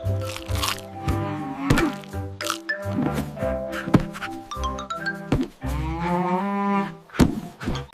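Cartoon cow moos repeatedly in drawn-out, wavering lows, mixed with playful thumps and musical accents in a bright children's alphabet song.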